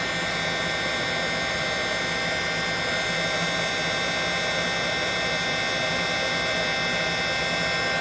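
A heat gun blasts a loud, steady roar of hot air while melting embossing powder, constant broadband hiss with no breaks, close and alone.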